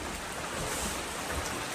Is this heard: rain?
yes